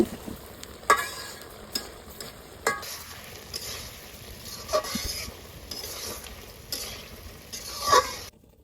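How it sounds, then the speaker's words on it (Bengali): Gourd sizzles and hisses in spices in a hot pan while a spoon scrapes and stirs, with sharp clanks every second or two, close up and without talk. "ওই মশলার মধ্যে দিয়ে দিব সবজি সবজিটাও কষিয়ে নিব দুই তিন মিনিটের মতো"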